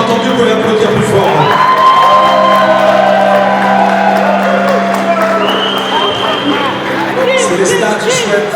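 Guests at a civil and religious wedding clap and cheer loudly, a busy crowd wash with whoops and shouts over a sustained musical tone, with voices calling out throughout.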